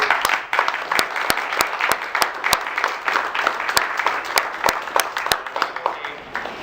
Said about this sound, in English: I think a warm round of applause is necessary